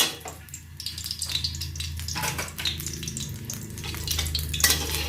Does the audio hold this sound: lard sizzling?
yes